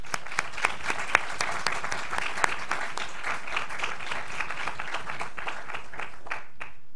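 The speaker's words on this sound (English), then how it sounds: "So please join me in a round of applause for our internship supervisors" An audience at a formal award ceremony gives a steady, sustained round of clapping. Individual sharp claps stand out above the dense patter throughout.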